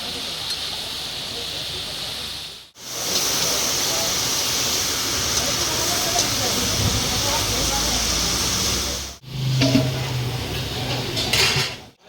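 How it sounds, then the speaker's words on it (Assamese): Food fries in a hot pan with a loud, steady sizzle and hiss that runs continuously, broken only by two brief cuts. "এয়াও মই 5-6 মিনিটমান ভাজি ল'ম"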